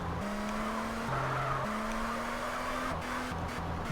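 A car in GTA San Andreas weaves through a slalom, its engine holding a steady droning note that jumps in pitch with gear and throttle changes, while tires squeal faintly through the turns.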